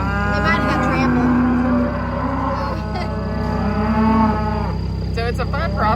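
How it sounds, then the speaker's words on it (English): Cattle on a farm moo repeatedly and loudly while being driven across the property, the low calls overlapping from several animals close by, with a steady rumble of the herd underneath. "The cows will be moved from this side of the property all the way over to the other side of the property."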